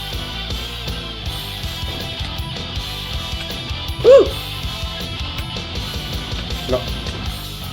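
In a Minecraft game, a wolf gives one sharp yelp-like bark over busy game sounds, with a few fainter yips scattered around it.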